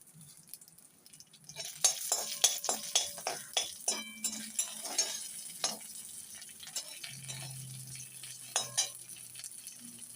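Urad dal and a torn dried red chilli fry in a pan, with a soft steady sizzle broken by a run of sharp spoon-on-pan clinks and scrapes from stirring, close and fairly quiet.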